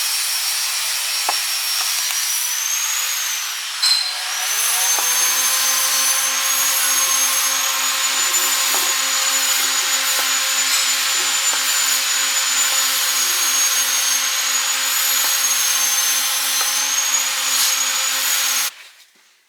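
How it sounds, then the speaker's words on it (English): An angle grinder smooths welds on a stitch plate capping a race car frame rail, a loud, steady high-pitched whine running continuously for most of the clip after a brief start-up, with no talk. "I'm not grinding the welds completely down, just smoothing the edge so that if anyone's ever working on it, they don't cut themselves"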